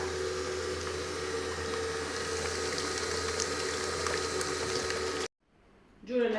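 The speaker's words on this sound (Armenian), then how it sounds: "Ավելացնում եմ սովորական ծորակից սովորական սառը ջուր" Cold tap water runs into a bowl for layered butter dough: a steady, rushing pour that stops abruptly near the end and is followed by a brief soft clatter.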